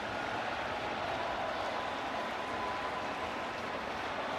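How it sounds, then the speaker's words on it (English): Home crowd at a Miami Marlins baseball game against the Texas Rangers, a broad steady roar of cheering and murmur that holds at an even level throughout with no clear speech on top. "Well, this crowd has come back to life."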